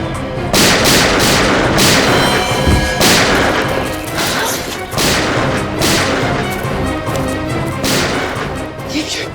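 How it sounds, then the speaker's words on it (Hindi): Dense, continuous gunfire fills the whole stretch, loud, rapid bursts and booming blasts piling over one another with no pause. "ये गोलियों की आवाज कैसी? लगता है वहां से आई है।"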